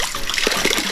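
Hot spring water at Bath Fountain in St Thomas, Jamaica, flows and trickles steadily nearby with small splashes, loud and continuous.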